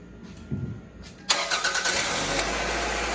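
A neglected 2000 Toyota Camry engine cranks briefly and catches, then settles into a steady, smooth idle close by.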